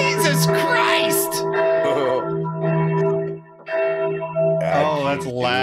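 Church bells ring in a loud, sustained peal of overlapping tones that swell and fade in waves, heard alone and close throughout.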